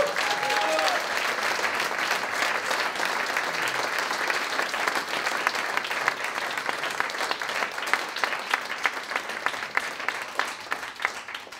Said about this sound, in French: Je vous demande de leur faire un tonnerre d'applaudissements